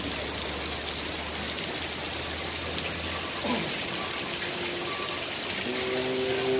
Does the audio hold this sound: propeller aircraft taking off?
no